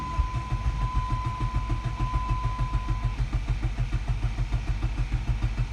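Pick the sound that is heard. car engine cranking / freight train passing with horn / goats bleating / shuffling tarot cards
car engine cranking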